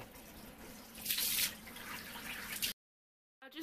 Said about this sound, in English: I'm just gonna get in the shower.